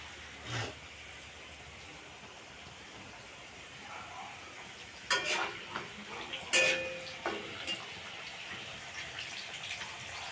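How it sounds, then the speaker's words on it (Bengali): Snacks frying in a pan while offerings are cooked for Janmashtami, a soft continuous sizzle with a few clinks and clatters of utensils, fairly faint and heard alone. "সবে ভাজাভুজি শুরু করলাম, এখন স্টার্ট করলাম, ভাজা রান্না শুরু করলাম"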